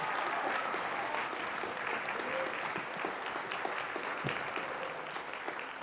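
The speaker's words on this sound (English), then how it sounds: "Can we get a round of applause for Tom, please?" Audience applause at a high school honor band festival concert, honoring a substitute second trumpet player; steady, sustained clapping from a large crowd in a hall, fairly distant and even throughout.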